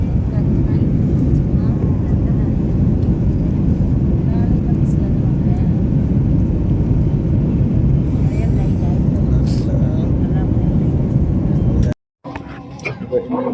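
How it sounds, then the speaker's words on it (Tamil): Loud, steady roar of a passenger jet cabin during landing on a Chennai to Delhi flight, dense low rumble throughout, then a sudden cut and quieter rattling noise at the end. "ஃப்ளைட் இறங்க போகுது"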